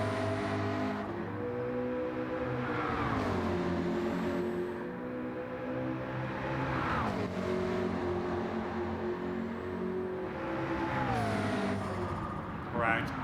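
Car engine held at full throttle in Gran Turismo 7 racing, a steady loud drone with rising and falling pitch as the revs climb and drop through gears, running continuously under a voice.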